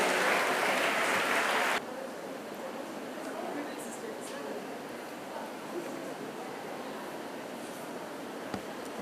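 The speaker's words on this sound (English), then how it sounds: "A big round of applause to our dear sisters as they're" An audience at a 75th jubilee felicitation claps loudly for the sisters as they walk to the dais, then the applause drops to a softer, continuing patter with light rustling and a few isolated claps.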